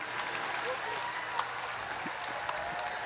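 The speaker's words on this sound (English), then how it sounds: "Give him a big round of applause." A crowd at the Sydney Royal woodchopping and sawing relay steadily claps for a US axeman cutting hardwood. The applause is moderately quiet and continuous, with a few sharper knocks standing out.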